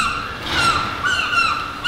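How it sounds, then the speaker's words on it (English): Artificial-sounding bird squawks play inside the Vancouver airport terminal, a few drawn-out, repeated calls that rise and fall against a steady indoor hum, fairly loud and continuous, with no talk. "What's that noise? Are those like fake bird noises?"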